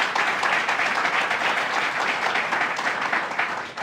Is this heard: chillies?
no